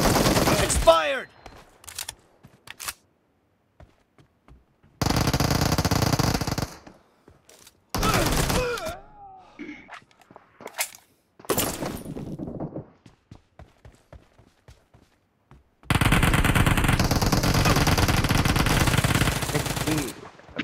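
Bursts of PUBG Mobile gunfire in a 3 vs 4 team deathmatch, with long sustained automatic volleys alternating with short sharp single shots and quiet gaps, loud and close throughout.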